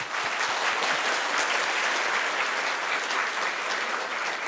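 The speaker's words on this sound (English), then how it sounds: "please join me to give them another round of applause." Audience applause after speakers at a morning Q&A session in Hong Kong, a loud dense continuous roar of clapping that stays steady throughout.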